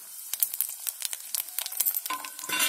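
A tempering of spices crackles and sizzles in hot mustard oil, with quick irregular pops and spits up close, intensifying toward the end, no voice over it.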